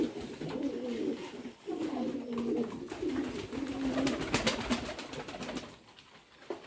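A pair of Pankhi (fantail) pigeons kept in a village coo continuously: a steady low, throaty rolling murmur with soft pulsing swells, close by, with no talk over it.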